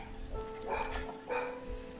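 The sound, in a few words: dog barking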